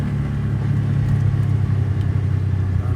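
An auto rickshaw crosses a sea bridge near Mannar, Sri Lanka, with a steady close rumbling motor drone that stays even throughout.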